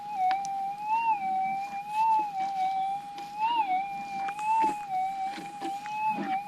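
A GPX6000 metal detector sweeping over noisy, mineralised ground gives off a continuous high, warbling tone that wavers and swells with each pass, with faint clicks and scrapes underneath.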